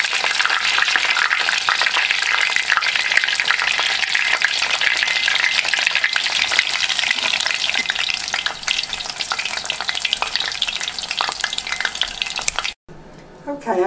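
Wontons frying in hot oil with a loud, steady sizzle and crackling pops that run continuously and close up for over twelve seconds before cutting off abruptly.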